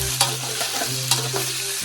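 Pork stir-frying in a pan over medium heat, a steady sizzle with a low electric hum beneath and a few scraping clicks of a utensil tossing the meat.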